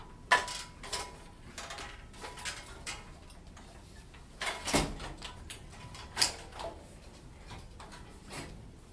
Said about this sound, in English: opens a restroom door, but only with great difficulty